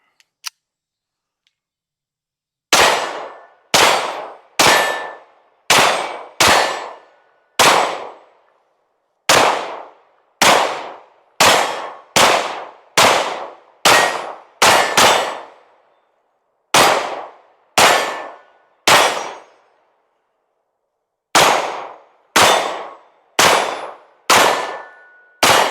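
A PSA Rock 5.7 pistol fires a full magazine outdoors, about twenty loud, sharp shots in an uneven rhythm with brief pauses between bursts, each crack ringing out close up.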